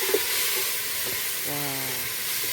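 Chopped tomatoes drop into onions frying in a pot over a village fire, setting off a steady close sizzle and hiss with a brief stirring clatter and a faint whistling tone.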